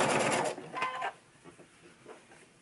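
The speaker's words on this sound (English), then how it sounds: "now what I'm doing is I'm top stitching this" Sewing machine top stitching a fabric mask: a fast whirring stitch run up front, a brief second burst, then quiet mechanical ticks trailing off.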